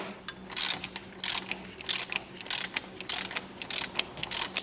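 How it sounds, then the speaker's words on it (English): A hand ratchet with an E10 inverse Torx socket works a thermostat housing bolt on a Mercedes-Benz V6, giving a steady run of quick, close clicking bursts in a regular back-and-forth rhythm, with no talk. "you're going to need an E10 inverse Torx socket. And you're going to remove 2 bolts"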